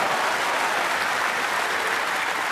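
A crowd at the 2015 Masters snooker tournament claps loudly and continuously, a dense, even wash of applause throughout with no breaks.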